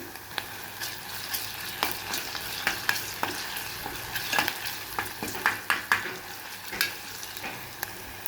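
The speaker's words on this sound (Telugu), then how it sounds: "ఇప్పుడు ఈ అల్లం వెల్లిపాయ పేస్ట్ కూడా వేయాలండి" Onions and ginger-garlic paste sizzle in a pan for a cucumber (dosakaya) curry, a steady frying hiss broken by repeated clinks and scrapes of stirring, close and with no speech.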